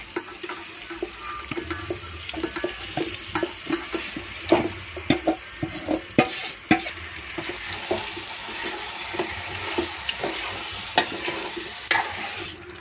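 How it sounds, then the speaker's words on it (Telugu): Marinated chicken frying in a pan over a high flame, a steady sizzle broken by repeated scrapes and clatters of stirring throughout, close and clear with no voices. "చికెన్ అనేది కాసేపు ఫ్రై అయిన తర్వాత హై ఫ్లేమ్లోనే ఉంచుకోవాలి ఫ్రై అయ్యేంత వరకు"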